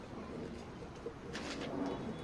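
Pigeons coo softly and steadily inside a pigeon loft, a low continuous murmur of several birds close by with no talking.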